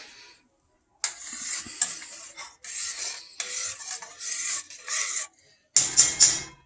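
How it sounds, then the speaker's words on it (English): A spoon scrapes and stirs inside a pot of homemade chicken noodle soup, bursts of gritty metallic rasping separated by short pauses, close and moderately loud. "we'll give that a little bit of a stir"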